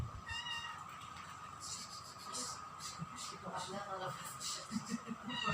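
A cat meows several times in a row, clear harmonic calls scattered across the stretch, with a person speaking throughout and a steady background hum.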